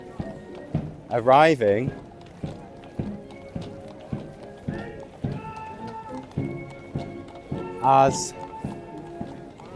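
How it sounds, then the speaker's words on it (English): Household Cavalry horses ridden at a ceremonial occasion for King Charles, their hooves clip-clopping in a steady rhythm on a hard surface, with a couple of whinnies rising above while a person talks over the scene. "We have the Household Cavalry on horseback"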